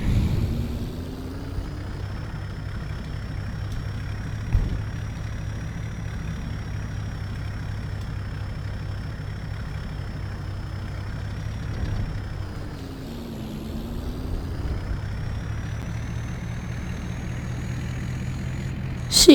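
A truck engine in Farming Simulator 22 runs at a steady low idle for the whole stretch, a continuous near rumble with a brief rev and pitch dip partway through.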